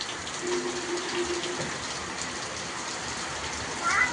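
Steady rain falling, a constant dense hiss with a brief louder surge at the end, no talking.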